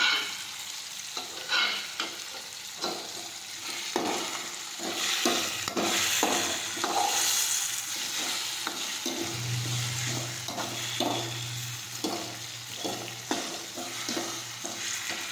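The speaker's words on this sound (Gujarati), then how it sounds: "થોડી વાર આ રીતે સાતળી દઈશું" Morai (barnyard millet) khichdi ingredients sauté in a pan with repeated spoon stirs and scrapes over a soft sizzle, and a low steady hum joins in the second half.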